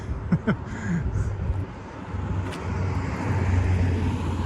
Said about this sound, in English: the cars are very close, so I'll stay well away from the curb here as I walk along Saskatchewan Drive